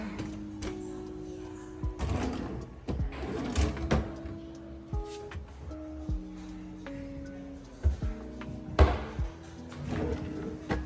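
A drawer being opened and closed during house cleaning while moving out, with repeated wooden slides, knocks and thuds spaced irregularly at close range, a voice speaking at times.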